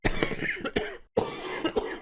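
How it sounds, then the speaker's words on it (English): A person coughs close by in a Silent Hill 2 Remake game scene, a quick series of harsh, hoarse coughs in two bursts separated by a brief pause, loud and alone without speech. "you'd better do something about that cough"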